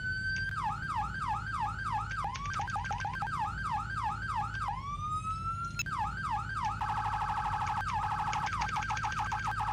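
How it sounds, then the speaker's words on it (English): Police car yelp siren from the Photon lighting add-on in Garry's Mod, a loud, continuous rapid warbling wail that sweeps up and down without pause, briefly shifting to a faster, steadier pulsing pattern near the end. "the alert is whenever you yelp, is when you're using your sirens."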